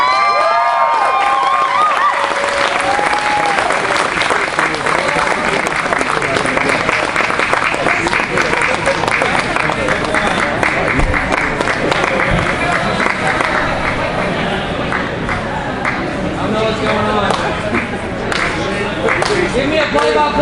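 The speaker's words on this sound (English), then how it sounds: "Again, guys, your applause are necessary." Audience at a live handcuff escape stage show applauds and cheers, a sustained wash of clapping and crowd noise with voices mixed in throughout.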